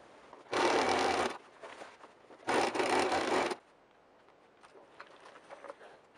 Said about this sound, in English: we're going to create a casing for that raw edge of the seam allowance and sew it